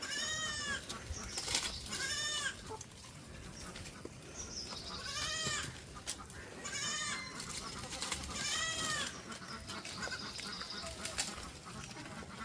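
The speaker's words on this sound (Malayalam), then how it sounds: "അങ്ങനെ 3 ആടുംകുട്ടികൾ." Three long-eared cross-breed goat kids bleat again and again, their wavering cries arriving every couple of seconds over a steady hiss of outdoor background noise.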